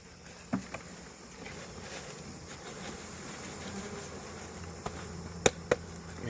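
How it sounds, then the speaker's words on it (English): Honey bees swarming at an opened hive with its top off and a frame lifted, a steady dense buzzing hum held throughout, with a few sharp knocks and clicks near the end; no one speaks. "And yep, that's a lot of bees."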